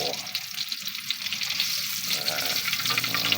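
Tulingan fish frying in hot oil for paksiw, a steady close sizzle and crackle that runs evenly throughout with no voices over it.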